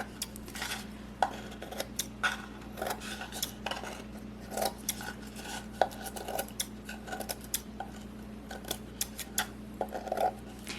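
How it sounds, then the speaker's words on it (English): Scissors snip close by, trimming paper napkin glued with Mod Podge around a homemade jewelry container. The snips come as irregular, sparse clicks and crisp cuts with no talking. "I'm just going to take some scissors and just kind of trim it up, make it look really nice"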